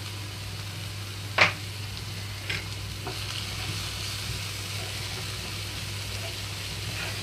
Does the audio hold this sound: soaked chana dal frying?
yes